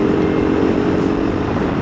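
A KTM 390 Adventure single-cylinder motorcycle with an aftermarket stainless full exhaust and resonator removed drones loudly and steadily at a constant engine speed, close and continuous, with no talk over it.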